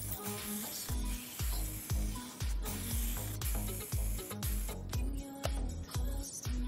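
Car paint spraying on a white car in Car Mechanic Simulator 2021, a series of hissing spray bursts repeating in a steady rhythm, each with a soft thump, fairly loud and close.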